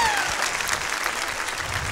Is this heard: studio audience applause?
yes